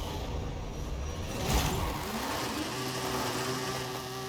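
Simulated car engine revs and wheels spin at a drag-race launch in Forza Horizon 5, a steady mid-loud engine drone with a brief burst of tire noise near the start, no talking.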